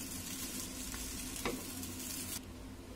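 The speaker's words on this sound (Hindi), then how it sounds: "अब थोड़ा थोड़ा राइस करके इसको मिक्स करते जाए" Rice stir-fried with egg, chicken and vegetables, a dense continuous sizzle with a scrape of the spatula partway through, dropping suddenly near the end.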